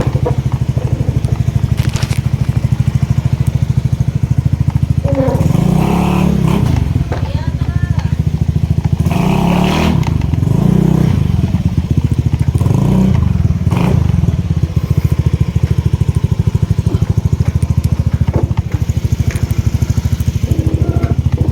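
A Honda Beat scooter's small engine starts and idles loudly close by, a steady buzzing putter with a few revving surges midway, while someone talks over it.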